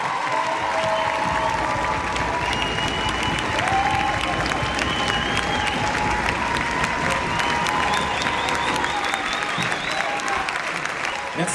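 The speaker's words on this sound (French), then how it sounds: "je voudrais que vous l'applaudissiez, un grand bravo" Loud, sustained applause from a theatre audience behind the scenes of a rock opera production, with scattered cheers and shouts riding on top of continuous dense clapping for over ten seconds.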